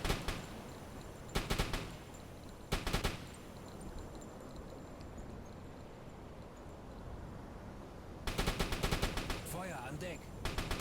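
Deck gun on a U-boat in the game UBOAT fires at a ship in bursts of sharp shots: a cluster at the start, two more blasts soon after, then a rapid volley near the end over steady sea and engine ambience.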